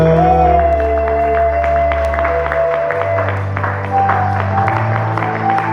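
A church congregation applauding steadily over sustained organ or keyboard chords, the clapping dense and continuous throughout at moderate distance.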